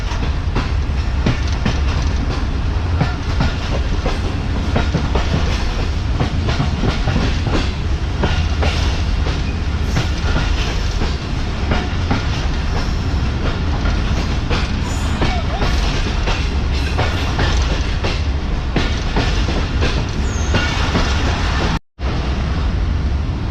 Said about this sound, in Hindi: तो दोस्तों ट्रेन फाइनली निकल चुकी है कोट लखपत रेलवे स्टेशन से